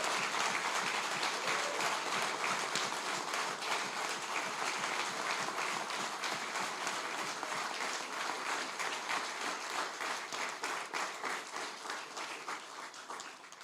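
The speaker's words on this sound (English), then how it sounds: "Let's give them a round of applause." Steady audience applause at an election night speech in Prince Edward Island, a continuous crowd clapping that gradually thins and becomes more rhythmic toward the end.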